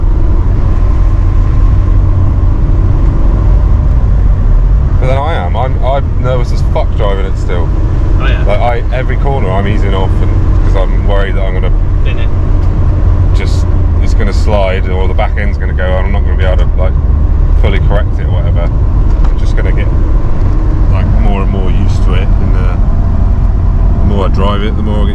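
A Honda S2000 cruises along at around 30, its steady low engine drone and road noise running continuously beneath two people chatting in the cabin throughout.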